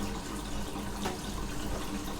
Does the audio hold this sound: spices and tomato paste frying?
no